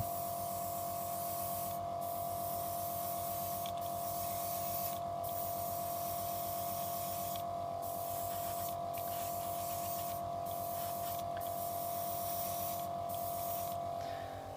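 An airbrush sprays paint onto a Zaku II plastic model kit, giving a steady continuous hiss with a faint hum beneath, with occasional brief pauses in the airflow.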